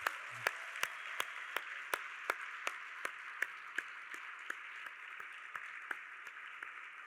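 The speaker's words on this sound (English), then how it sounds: "One more time, one round of applause for Herschel and David." Audience applause at an MLK motivational rally at Austin College for Herschel Walker and David: soft, steady clapping from a crowd, with a few sharper, evenly spaced claps standing out near the front.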